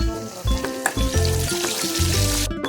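Garlic, cumin and chopped green chillies sizzle in hot tempering oil for a home-cooked dal, a steady close frying crackle with occasional clinks and stirring scrapes, no talk.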